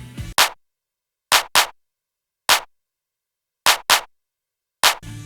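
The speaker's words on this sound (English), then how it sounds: "And my clap sounds like this." Sharp clap hits from an electro pop beat ring out alone in a syncopated pattern of singles and quick doubles, crisp and dry with short tails and silence between.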